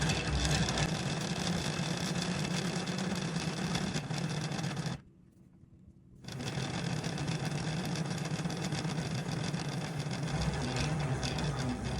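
A hand-cranked yarn winder turned quickly, giving a steady whirring, rattling mechanical drone that runs continuously, stops briefly for about a second, then resumes at the same pace.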